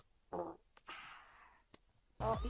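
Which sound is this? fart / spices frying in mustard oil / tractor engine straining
fart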